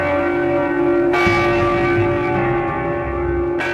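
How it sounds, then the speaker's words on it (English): A church bell rings out from a belfry at midnight, a loud sustained tolling tone with a strong new strike partway through, heard alone with no talk. "At midnight, it was known to climb the belfry and ring the bell"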